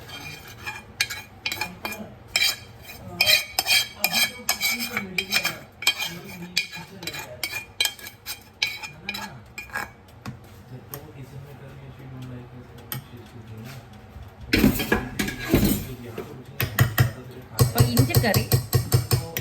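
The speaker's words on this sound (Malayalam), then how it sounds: "നമുക്ക് ഈ കോപ്പയിലേക്ക് ഇഞ്ചിക്കറി മാറ്റാം." Spooning ginger curry into a bowl: scattered light clinks and scrapes of a spoon against dishes, with a louder burst of clattering near the end, while people talk quietly.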